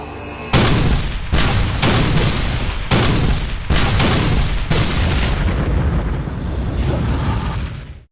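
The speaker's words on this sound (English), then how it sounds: "The largest artillery barrage ever in North America is about to begin." Civil War cannons at the Battle of Gettysburg firing a heavy artillery barrage: about eight loud booming shots at irregular intervals, each with a long rumbling decay that overlaps the next.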